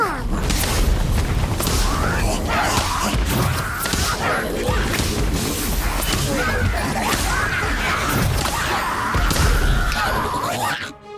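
Incendio fire spell cast in the Harry Potter Magic Awakened video game, loud booming whooshes and crashing bursts layered over dense game effects, sustained and forceful throughout.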